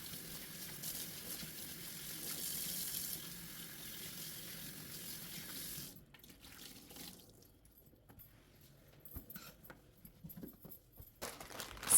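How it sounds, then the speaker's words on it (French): Tap water runs steadily to rinse a freshly cleaned surface, a soft continuous hiss that drops away partway through, leaving quieter trickles and small splashes. "Au bout de 10 minutes environ, je viens tout simplement rincer."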